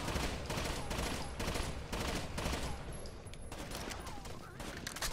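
Rapid bursts of gunfire in the tactical shooter Rainbow Six Vegas 2, dense and continuous across the stretch with repeated volleys and overlapping shots, loud throughout alongside game noise.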